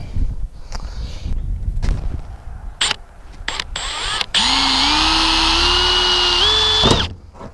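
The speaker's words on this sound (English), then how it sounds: "I'm just going to drill a bit of a pilot hole for it" A few short drill blips, then a loud, close power drill runs steadily for about three seconds, its pitch rising as it speeds up before stopping, drilling a pilot hole in the hood of a 1993 Ford Mustang.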